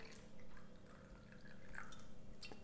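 Kangen water is poured into a container for a green tea test, giving quiet dripping and trickling with faint splashes at close range and no voices.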